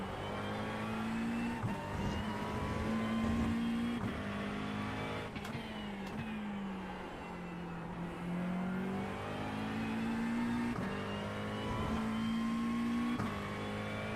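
GT3 race car engine in the iRacing sim, a steady loud drone that rises and falls with revs and gear changes across the whole stretch, with no talk over it.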